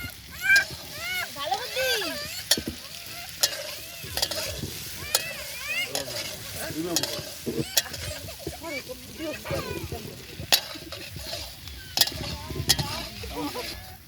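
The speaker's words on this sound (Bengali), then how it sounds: "মশলাগুলো ভালো করে ভাজা হয়েছে, এবার ভেজে রাখা আলুগুলো এর মধ্যে দিয়ে দিলাম" Potatoes sizzle and fry in spices with occasional stirring clatter, while a voice speaks over the cooking throughout.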